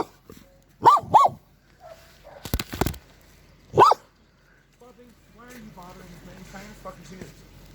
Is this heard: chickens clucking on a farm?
no